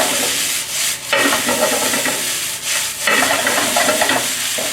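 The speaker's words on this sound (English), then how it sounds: "So I'm going to stir this for maybe a few minutes until the noodle nicely hot." Vegan vegetable noodles stir-fried in a hot oiled frying pan give a steady loud sizzle, broken by a few scraping, rustling stirring strokes spaced about every second or two.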